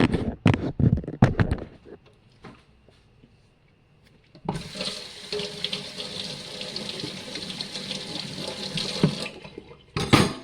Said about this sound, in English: And I'm going to wash this off immediately.